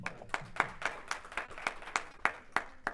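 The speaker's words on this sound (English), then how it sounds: "Round of applause one more time." A small group gives a round of applause at a Toastmasters club meeting, sparse, distinct claps in an uneven rhythm, fairly quiet and near, with no talking.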